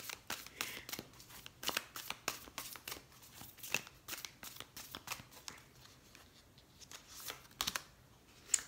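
A deck of tarot cards shuffled by hand: a long run of quick, papery riffles and flicks, close and fairly quiet, coming in uneven bursts with no talking.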